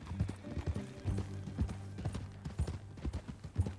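Horse hooves clip-clop at a steady walking rhythm in Red Dead Redemption 2, quiet and close, with faint background sound and no voices.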